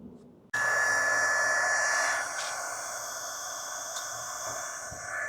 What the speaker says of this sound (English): I'm going to use the heat gun.